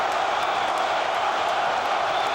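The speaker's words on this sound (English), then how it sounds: "The crowd is chanting between rounds." A boxing crowd between rounds of Evander Holyfield vs. George Foreman makes a steady, dense arena roar of many voices, loud and continuous throughout with no breaks.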